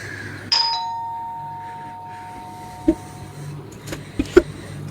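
A Ring video doorbell at 3 o'clock chimes with a clear electronic ding that rings out and decays over a couple of seconds, followed by a few scattered knocks and clicks nearby.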